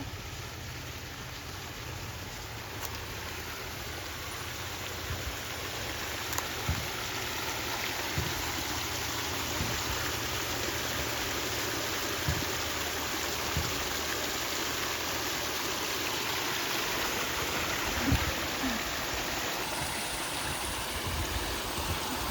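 Irrigation water runs through a field line outdoors as a steady, faint wash of flowing water that goes on the whole time, with no voices.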